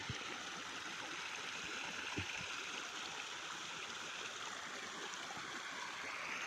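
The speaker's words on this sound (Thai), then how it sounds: "เยอะมากน้ำนะฮะ" Steady flowing water from a full stream or channel beside a rice field, a continuous broadband rush with no talk over it.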